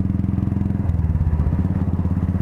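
A 2018 Royal Enfield Himalayan BS4 motorcycle idles up close, its single-cylinder engine giving a loud, steady low thumping pulse that stays even from start to end.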